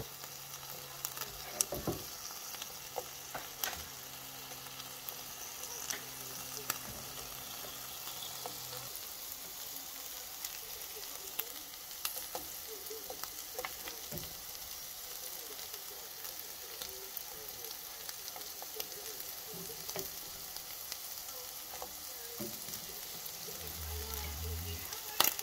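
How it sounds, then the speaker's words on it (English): Red onions sauteing in a pan for a breakfast omelet give a steady soft sizzle and crackle throughout, with occasional sharper pops and light clinks from stirring, fairly quiet and close. "While that's sauteing on the side"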